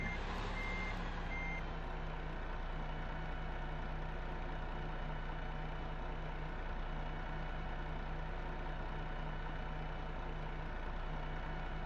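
A dump truck in the farming game Farming Simulator 15 sounds steady, evenly spaced reversing beeps over a low idling diesel engine, continuous and moderately close throughout.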